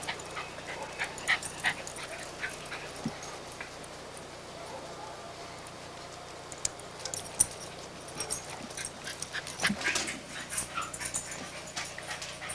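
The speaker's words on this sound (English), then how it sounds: "Good dog." A dog at a family birthday gathering gives soft whimpers and short yips, scattered and fairly faint over a quiet room, with small clicks and jangles between the sounds.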